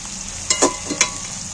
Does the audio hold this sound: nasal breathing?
no